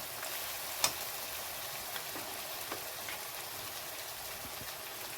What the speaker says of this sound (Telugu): ఫ్రై చేసేటప్పుడు కొంచెం దూరంగా ఉండండి ఎందుకంటే ఇది నూనెలో వేసిన తర్వాత కొంచెం తిరుగుతుందండి